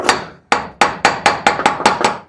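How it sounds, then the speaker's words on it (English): Hammer blows shaping a body part from a 1941 Mercury custom: about nine sharp, loud metallic strikes land close by in a steady rhythm, each ringing briefly before the next, with no talking. "Let's see if we can hit this into shape."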